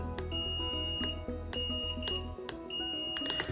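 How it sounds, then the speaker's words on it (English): A multimeter beeps during a continuity check on a pin while soldering electronics, a thin high tone sounding a few times in short bursts among clicks and a low hum. "So we hear that beep, right?"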